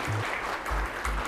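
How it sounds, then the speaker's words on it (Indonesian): Brief applause from an audience at a university project showcase, a steady patter of hand claps heard close and continuous. "Banyak tepuk tangan"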